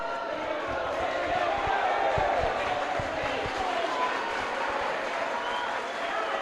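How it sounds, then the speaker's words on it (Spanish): Spectators at a futsal match clap and murmur in a steady, dense wash of crowd noise, with scattered thumps and calls mixed into the sustained roar. "se va aplaudiendo la jugada"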